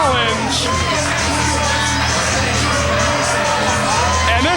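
Wrestling crowd at a CWF Mid-Atlantic tag team match, loudly shouting and jeering at the wrestlers Lance, Lude and Xsiris. The noise is a continuous, close roar of yelling voices with whoops throughout.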